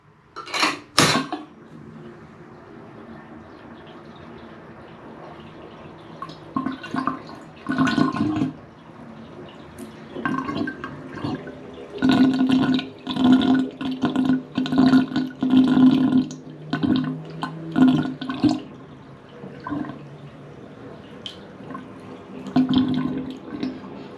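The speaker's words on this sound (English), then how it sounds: "Anytime you see that swirl effect, it's draining pretty good. All right, bathtub is drained." Water drains from a bathtub with a trip lever drain, a quarter-filled tub emptying in a steady gurgling, swirling rush with irregular bursts of glugging, loud and close with no talk.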